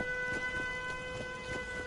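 A steady multi-tone siren wails at a settlement base in Fallout 4, sustained and moderately loud with faint rhythmic pulses beneath it.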